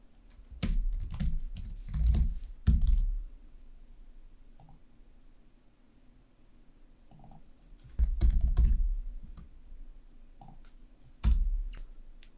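Typing on a computer keyboard while writing C# code for a chess program, with two dense bursts of rapid clicking keystrokes separated by quieter stretches and a few isolated key taps, close and clear with no talking.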